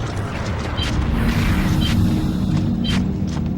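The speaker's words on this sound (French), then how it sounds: "Gare à l'explosion!" A loud, sustained explosion rumble in the video game Gears of War: Judgment, with booming low noise and crackling debris running the whole way through.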